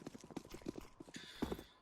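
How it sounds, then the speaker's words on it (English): Footsteps in Counter-Strike: Global Offensive during a pro match, a quick run of rhythmic thudding steps, close and fairly loud, with no talk. "He can hear all of these footsteps"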